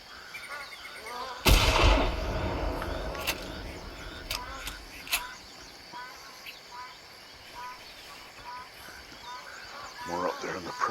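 A single loud shotgun blast while hunting magpie geese on a bay, booming up close and trailing off, followed by scattered goose honks and calls across the open water, with faint talk underneath.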